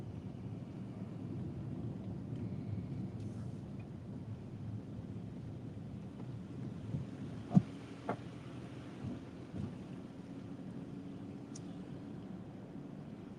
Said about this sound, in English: there's a waterfall right over there